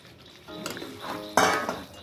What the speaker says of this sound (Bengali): এবারে এই মাশরুমগুলো দিয়ে দেবো এর মধ্যে